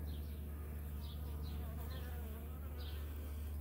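Honeybees crawling over a queen cage make a close, constant buzzing hum with a few brief higher wing whines rising above it, no voices.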